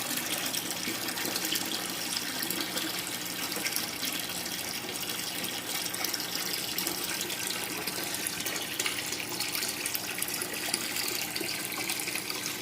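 Water being siphoned out of a home fish tank during a partial water change, a faint, continuous trickling gush running steadily with no talking.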